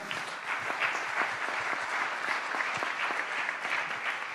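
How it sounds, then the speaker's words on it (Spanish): At an innovation congress panel, an audience claps for the winners of a public challenge, a soft, even patter of many hands that sounds somewhat distant and carries on without a break. "pedirles un aplauso para ellos que ganaron el desafío"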